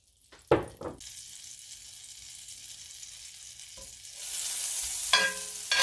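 Butter and a little olive oil hitting a pan on medium-high heat, a sharp initial hiss and spatter that settles into a steady sizzle, rising again near the end, close and loud with no talk.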